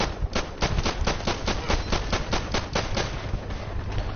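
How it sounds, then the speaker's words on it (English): Rapid automatic gunfire in Call of Duty Modern Warfare Remastered, a fast, even stream of loud close shots at roughly six per second, sustained without pause for about four seconds. "It really has these rapid fire weapons."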